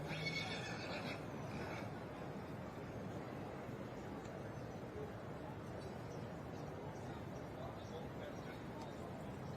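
A thoroughbred stallion whinnies briefly at the start amid crowd murmur and wind at an agricultural show ring, with commentary voices talking over the steady outdoor noise.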